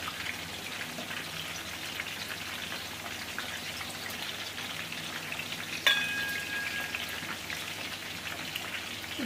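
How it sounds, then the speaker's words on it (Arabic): Dried beans and broth going into a pot of thick, sizzling tomato sauce, giving a steady crackling hiss with a brief louder splash and burst partway through. No one speaks. "هروح نازله بالفاصوليا وهزيدها الشوربه"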